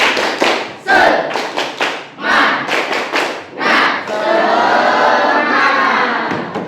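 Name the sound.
class doing tepuk semangat rhythmic clapping chant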